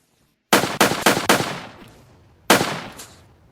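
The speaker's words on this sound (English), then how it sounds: "because it's a pistol, it takes a couple of shots to damage the blimp enough to shoot it down" A Glock pistol fires in a virtual world: four sharp, loud shots in quick succession, a pause, then one more shot, each with a short decaying tail.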